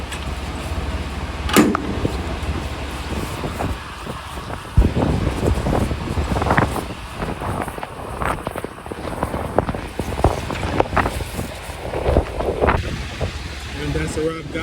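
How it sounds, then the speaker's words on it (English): Strong, cold, wet wind buffets the microphone outdoors beside a truck, roaring and gusting unevenly throughout, with scattered clunks and thumps underneath. "Cold, wet, and windy as hell."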